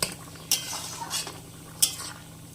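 A spoon stirs a vegetable curry in a pot with fried lentil dumplings added, giving several sharp metallic clinks against the pot over a soft, steady simmer, with no talking.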